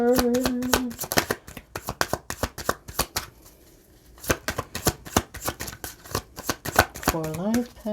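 Cards riffled and shuffled for a tarot-style reading, quick crisp flutters in several close bursts with brief pauses, and a voice speaking between them.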